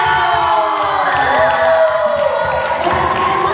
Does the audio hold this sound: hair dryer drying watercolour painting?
no